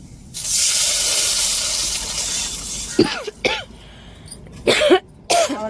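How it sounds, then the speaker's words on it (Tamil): A hot tempering is poured into churned curd for curd rasam, giving a loud hissing sizzle for about three seconds, followed by a few short clinks and brief vocal sounds. "இதை அப்படியே தாளித்து விட்டுருவோம்"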